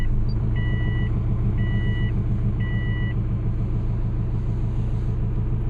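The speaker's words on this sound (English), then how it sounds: "And we'll start the car" A car engine idles steadily after starting, a constant low rumble with a faint repeating electronic beep pattern over it, no talking.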